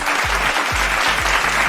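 Crowd applause during an online pro wrestling trivia night, a steady wash of clapping that fills the whole short stretch at even loudness.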